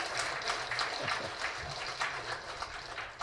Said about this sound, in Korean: 부산팀한테 박수 한번 크게 보내주시기 바랍니다